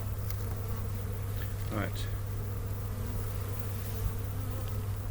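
Honey bees from a hive opened for its first inspection of the year during a warm February spell hum as a steady, close drone under a brief spoken word, with a low continuous hum beneath.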